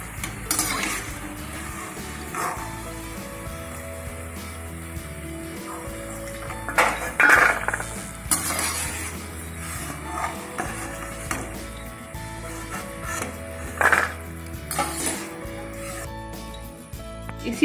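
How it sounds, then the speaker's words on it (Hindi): Fried shakarpara are lifted out of a pan of hot oil onto a plate: steady frying sizzle under repeated metal scrapes and clinks of a spoon against the pan, with a few sharper knocks. "अब इनको एक प्लेट में निकाल लेंगे।"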